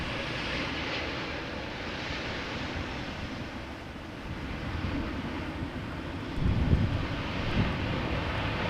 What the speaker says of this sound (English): KLM 777 arriving from Lima